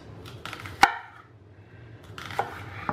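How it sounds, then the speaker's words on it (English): A knife chops onion on a cutting board, one sharp loud strike followed by softer scattered cuts against a low background hum. "Just chopping them up partially."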